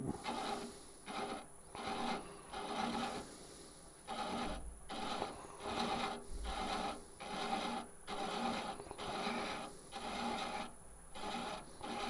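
An Ashley Iles thread chaser cuts a thread on a wooden piece, producing regular repeated rasping strokes, close and fairly quiet, each pass about a second long, with no voices.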